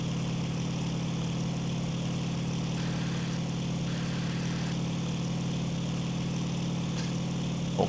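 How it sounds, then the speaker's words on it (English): A La-5FN Lavochkin fighter's radial engine runs in the flight simulator IL-2 Sturmovik, producing a steady, unbroken drone with a strong low hum, loud and constant, with no voices. "It's a very powerful engine in these Lavochkins."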